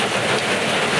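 Rain pours steadily outdoors in the provinces, a loud, even wash of hiss with no pauses and no voices over the short stretch.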